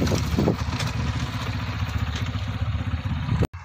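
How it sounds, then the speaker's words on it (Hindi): A tractor engine chugs steadily and loudly at close range in a paddy field during the rice harvest, a continuous rhythmic clatter that cuts out abruptly near the end. "ये हमारे पंकज भैया आ चुके हैं ट्रैक्टर लेके।"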